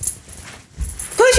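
A West Highland terrier whimpers in short, thin whines indoors, close by, with a person's voice rising near the end.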